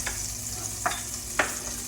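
Chopped onions, celery and green onion tops hit a hot skillet with a soft, continuous sizzle, punctuated by a couple of brief stirring scrapes, quiet and close with no talking.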